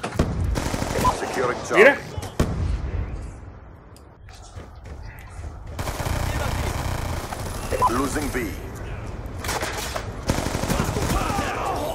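Rapid automatic gunfire from the video game Black Ops 2 crackles in loud bursts, mixed with game sounds while players talk over it.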